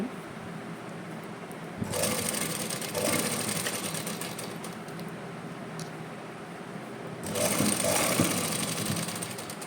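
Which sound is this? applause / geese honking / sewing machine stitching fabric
sewing machine stitching fabric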